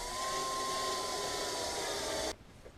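A power drill whines steadily at close range during a quick Class B RV project, then cuts off abruptly, leaving a quiet room.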